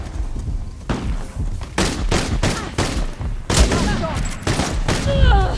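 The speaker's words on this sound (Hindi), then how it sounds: "अरे यार स्नाइपर ने मार दिया मुझे" Gunfire in the action game Uncharted: The Lost Legacy, including sniper shots, a series of sharp cracks and booms fired in irregular bursts, with a voice talking in between.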